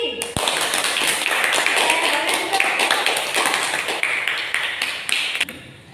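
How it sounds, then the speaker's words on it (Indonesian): Lively clapping from a primary school class for pupils who just presented, a dense burst of many small hands that runs steadily and then cuts off, with a voice mixed in. "beri tepuk tangan dulu buat Teguh dan buat temannya yang sudah presentasi"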